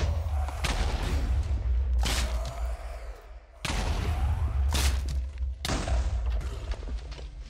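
Explosions from a Nether Star farm in the Minecraft modpack Enigmatica 2 Expert boom repeatedly in loud, close bursts, about five heavy blasts with rumbling tails in quick succession.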